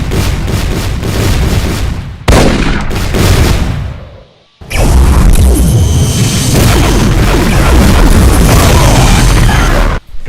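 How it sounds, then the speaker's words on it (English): A Mastermind boss in a Doom mod fires a single spread volley of round BFG shots, producing loud booming blasts in dense, continuous bursts, with a brief lull near the middle before a sustained roaring barrage. "single volley spread of round BFG shots"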